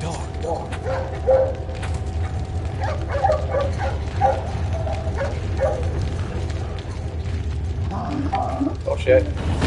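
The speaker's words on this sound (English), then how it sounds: "it's that dog." A dog barks and yips in the video game Resident Evil 4, mixed with mechanical game noises and a constant low background hum throughout, and a voice talks over it at times.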